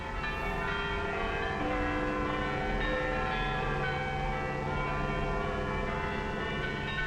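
Church bells in Britain ringing continuously, with overlapping tones sustaining in a dense, resonant wash, steady and moderately distant.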